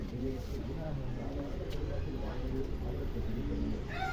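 Racing pigeons coo in low, soft, repeated throaty calls, fairly close and continuous, blended into a steady outdoor background hum.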